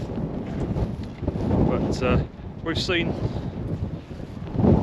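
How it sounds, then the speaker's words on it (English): Strong wind buffets the microphone at the Perlan viewpoint above Reykjavik, a loud, gusty rumble running throughout while a person speaks over it. "Very windy"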